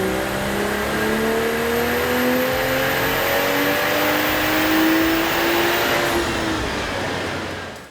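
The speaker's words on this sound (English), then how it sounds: "the titanium catback exhaust and intake made for better noises" Manual Toyota A90 Supra with a titanium catback exhaust and intake, revving on a dyno: a loud, sustained engine note that climbs steadily in pitch, then cuts off at the end.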